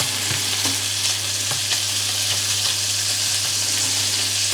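Bacon frying in a pan ahead of green beans: a dense, continuous close sizzle with steady crackle and occasional soft spatter pops, loud and uninterrupted.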